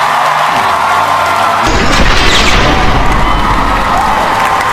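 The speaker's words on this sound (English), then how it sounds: "Big round of applause." A large audience erupts in loud applause and cheering for a guest speaker at a high school assembly, rising from a quieter hall into a dense, sustained roar of clapping and whoops.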